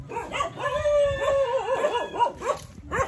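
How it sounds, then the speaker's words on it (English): A dog gives a continuous run of wavering, howl-like yips and whimpers, fairly close and loud, with no talking over it. "This dog doesn't like my voice."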